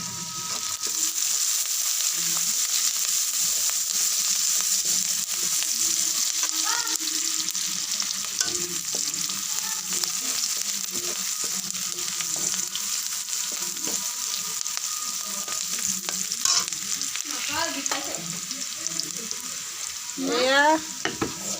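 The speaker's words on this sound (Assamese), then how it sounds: "এয়া পিঁয়াজখিনি ভজা হৈ গৈছে" Steady sizzling of onions frying in a pan, with scraping stir strokes and occasional clinks throughout, close and fairly loud.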